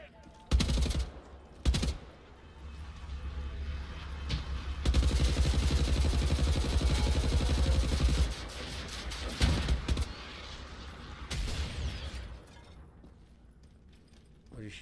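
Enemy gunfire in the shooter game Wolfenstein: The New Order crackles in dense bursts and sharp single shots, loud and close, with a long sustained volley in the middle and quieter gaps between.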